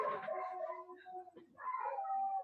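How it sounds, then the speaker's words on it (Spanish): Household dogs whimpering and howling close by, drawn-out tonal wails that fall away and then return, faint human talk underneath. "Se escuchan mis perros quejarse"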